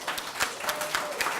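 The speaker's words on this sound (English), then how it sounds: "Let's give us all a big hand of applause for being here." A group gathered for a SkillsUSA school-year kickoff claps in a short burst of applause, individual sharp claps standing out in a fairly light, close crowd sound.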